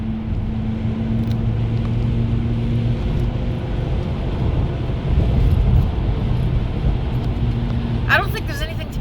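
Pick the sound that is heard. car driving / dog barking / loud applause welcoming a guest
car driving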